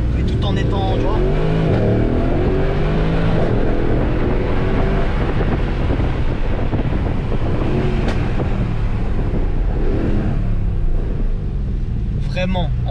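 A Mercedes-AMG GLC 63 S SUV with a 510 hp engine, revving and pulling hard on the road in Dubai, sounds as a loud continuous drone with wind buffeting, while a person talks over it throughout.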